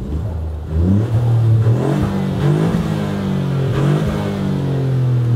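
Ford Fiesta ST three-cylinder exhaust in comfort mode, revved repeatedly while parked, rising and falling in several close, loud throaty pulls over a steady idle.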